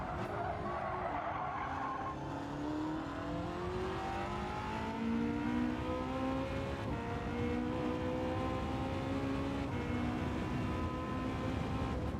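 A Porsche Gr.1 prototype race car in Gran Turismo 7 sounds a steady high engine note that climbs through repeated upshifts, close and continuous, with tire noise underneath.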